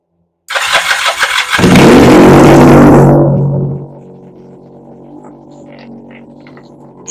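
A 1979 Kawasaki KZ400 motorcycle engine fires up loudly after a short silence, roars for about two seconds, then drops to a steady, quieter idle.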